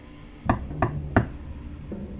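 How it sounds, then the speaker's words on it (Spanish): Three sharp knocks on a door in a home's living room, evenly spaced about a third of a second apart, close and distinct against a quiet room, followed by a faint low thud. "cuando tocaron a la puerta"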